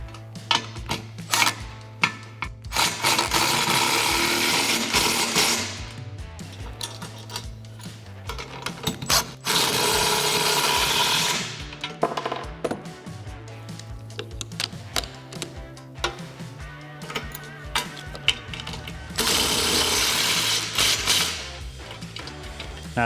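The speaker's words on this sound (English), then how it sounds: "I'm going to take my electric gun, my 13mm, my wrench, and I'm just going to start tightening them up" An electric impact gun with a 13mm socket tightens the bolts on a Barricade Trekker front bumper for a Jeep Wrangler JK. Three long loud rattling bursts stand between stretches of clicking and clanking tool handling.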